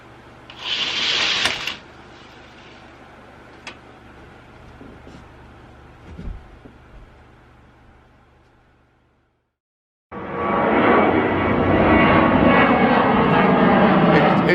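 Fixed-wing airplane going around over Utqiagvik, Alaska, its engine drone steady at first, then fading out into near silence before returning loud, close and broad-band after a pause, with a short burst of noise near the start.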